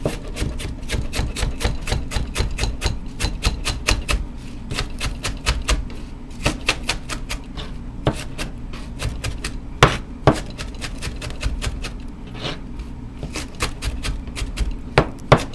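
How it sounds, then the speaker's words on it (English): Onions diced on a cutting board with a professional chef's knife, rapid steady chopping strikes knocking close and loud for the whole stretch, with no talking. "So as we get those onions nice and diced up there"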